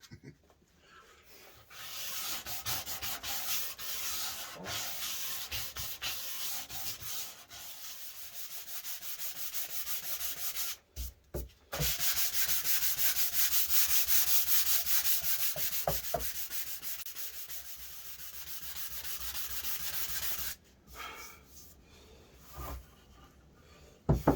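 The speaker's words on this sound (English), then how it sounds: "I'm just going to focus on sanding this" Steady rhythmic scraping of sandpaper rubbed back and forth over wood at a scarf joint, close and continuous, with a few brief pauses between runs of strokes.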